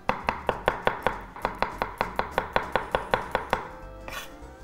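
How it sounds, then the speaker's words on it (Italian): A knife slices garlic on a cutting board for a porcini and sausage tagliatelle sauce: about seventeen crisp, evenly spaced chops in a steady rhythm, close and clear, ending with a softer scrape. "Se volete lo potete lasciare intero e poi toglierlo, oppure farlo direttamente a fettine. Io faccio così."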